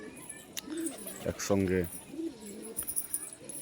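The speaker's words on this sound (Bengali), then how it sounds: "অনেকগুলো পায়রা দেখতে পাচ্ছেন ভিউয়ার্স।" A flock of pigeons coos together in a soft background murmur, while someone talks over them in a close voice.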